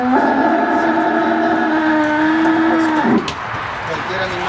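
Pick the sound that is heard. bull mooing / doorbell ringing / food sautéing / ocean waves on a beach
bull mooing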